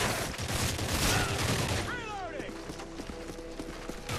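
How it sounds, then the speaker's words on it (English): Assault rifle gunfire in a video game: dense, rapid bursts of shots run loud through the first couple of seconds, then thinner scattered shots continue under rising whistling effects and background game noise. "at this point I switched up to the assault rifle"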